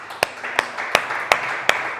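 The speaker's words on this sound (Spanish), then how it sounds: "Dale un fuerte aplauso al Rey de Reyes." A church congregation claps for the King of Kings at a Spanish-language service: five sharp, evenly spaced claps land in a steady unison beat, fairly close and crisp, with a faint hum underneath and no talking.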